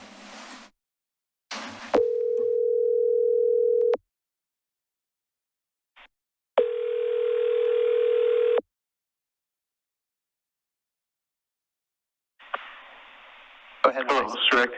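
An office VoIP phone line calling out gives two steady, evenly pitched tones of about two seconds each, separated by silence and framed by clicks and brief bursts of line noise.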